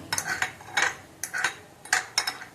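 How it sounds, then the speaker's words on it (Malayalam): A spoon stirs mustard sauce with vinegar and sugar in a bowl, clinking and scraping in quick repeated strokes, close and clear with no talking. "അപ്പൊ അതിൽ ഞാൻ ഇച്ചിരി വിനിഗറും കുറച്ച് പഞ്ചസാരയും കൂടി ഇട്ടിട്ടൊന്ന് മിക്സ്"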